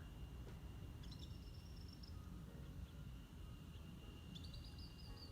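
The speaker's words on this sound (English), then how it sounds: "You can hear the birds." Faint, distant bird calls with a few thin whistled phrases over a steady insect drone and low background hum in a quiet Panama rainforest in the afternoon.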